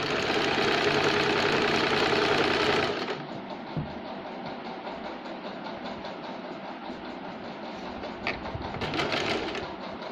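A sewing machine stitches the neckline of a lined katori blouse, running in a fast, loud burst of rapid mechanical clatter that then settles into a quieter, steady rhythmic whirr.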